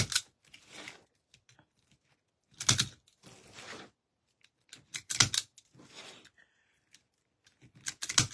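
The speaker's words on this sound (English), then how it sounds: "I'll zip it up and cut off these zip ties here." Scissors snip through plastic zip ties on an orange and purple ribbon wreath: several sharp, crunchy cuts in short clusters, close and fairly loud, with pauses between.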